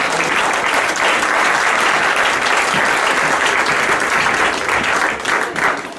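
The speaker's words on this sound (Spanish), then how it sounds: "Un aplauso para Jesús" A church congregation applauds steadily and loudly, dense continuous clapping filling the whole stretch without pause.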